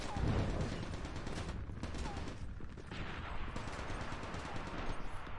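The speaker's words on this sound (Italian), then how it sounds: "Ho sentito spari da quella parte" Rapid bursts of gunfire from the mobile game Call of Duty Mobile crackle in quick succession, fairly distant and mixed with a dense, busy background of noise.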